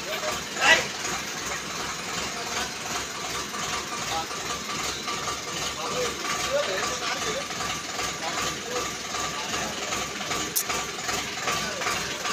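A tractor engine idles in a steady, low mechanical rumble that runs through the whole clip, with a faint knocking rhythm and occasional light background noises.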